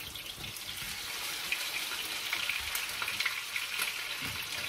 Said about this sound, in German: Und jetzt tue ich das alles da rein. In die Pfanne dreht das schon an.